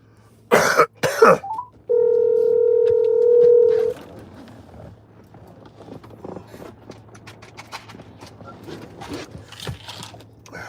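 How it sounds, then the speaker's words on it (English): A telephone call-back begins with a loud, steady electronic tone of about two seconds, just after a couple of close coughs, then fainter line noise and clicks. "Now let me call his number back."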